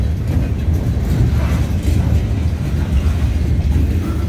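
A long freight train pulled by several big locomotives at the front rumbles past nearby, a heavy continuous roar with faint rhythmic clatter of wheels throughout.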